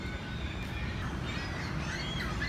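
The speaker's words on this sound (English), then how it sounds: "Not quiet because of all the seagulls" Seagulls in downtown Toronto give faint, repeated high calls, distant and scattered over a dense outdoor rumble, with no talking.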